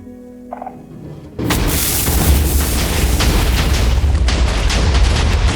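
A loud blocky Minecraft TNT minecart explosion erupts after a short quiet lead-in, followed by a sustained roaring rumble and crackle that fills the rest.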